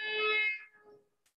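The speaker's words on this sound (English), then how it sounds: "Can you hear how the pitch of the honk changed as the sound source moved away from you?" A single car horn blares loud and steady, then its tone slides lower and fades as the vehicle moves away, ending in near silence.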